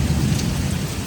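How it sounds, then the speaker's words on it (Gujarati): Heavy rain pours steadily with deep thunder rumbling through it during a monsoon storm on a road in Surat, a loud, continuous roar with no one talking. "વરસાદ ચાલુ થઈ ગયો છે ભાઈ એટલો બધો વરસાદ આવે છે ફૂલ વરસાદ હો ભાઈ"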